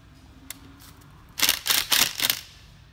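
Several quick metallic clicks and ratchety bursts of a door latch being tightened down on a vertical dummy lever handle set, after the trim and rose cover go on, close by with no talk.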